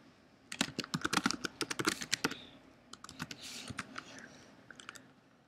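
Rapid clicks of keys on a computer keyboard while typing into Minecraft chat, coming in quick bursts with brief pauses, close and fairly quiet.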